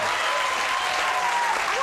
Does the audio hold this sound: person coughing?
no